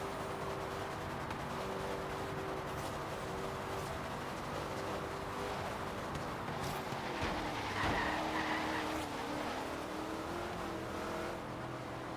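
Car drifting in Forza Horizon 3, a steady engine drone with tire skid and squeal building near the middle, game sound running continuously without talk.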